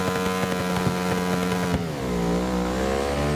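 Ducati motorcycle engine in the Ride 6 racing game, a loud deep growl with rhythmic low pulses that climbs in pitch as it revs up, close and alone without talk.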